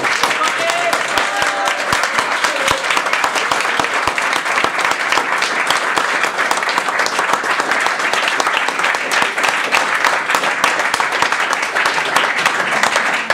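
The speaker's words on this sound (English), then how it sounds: "give Matty a massive round of applause" Loud, sustained applause from a large crowd at a youth under-15 football club presentation night, dense continuous clapping that holds steady throughout with no pause.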